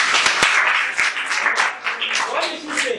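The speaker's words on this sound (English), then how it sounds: "Please clap for" An audience of schoolchildren claps at a science club presentation, a burst of uneven hand clapping that thins and fades, with a voice briefly breaking in toward the end.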